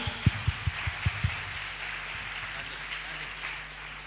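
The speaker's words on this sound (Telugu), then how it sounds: "దేవునికి గట్టిగా అందరూ కూడా చప్పట్లతో దేవుని స్తుతిద్దాం" A church congregation at a fasting prayer service claps in praise of God: six sharp rhythmic claps open, then fade into a diffuse, lingering wash of crowd sound.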